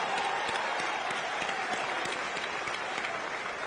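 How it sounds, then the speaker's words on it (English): Sustained applause from a large audience at an Atlanta economic opportunity event, a dense continuous clatter of clapping held at steady volume throughout, with no talking over it. "a round of applause would be very much appreciated"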